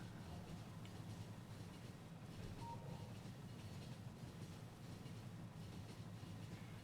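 Ore trains running in the Factorio video game, a steady rumbling rail rolling with faint clickety-clack, continuous and even, no talk.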